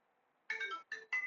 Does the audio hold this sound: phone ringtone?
yes